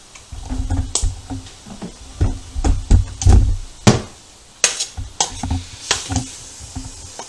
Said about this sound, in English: So I'm going to ground my meat, cook it before I add anything to it.